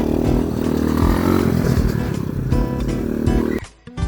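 An ATV on a ride at Brilliant Sky Leisure Park in Tagaytay revs loudly with a rough, steady engine roar and some clattering, close by, cutting off abruptly near the end.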